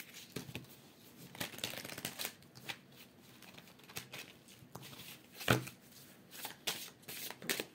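Tarot cards being shuffled by hand, a close series of crisp riffling and flicking bursts with one sharper snap midway, no speech.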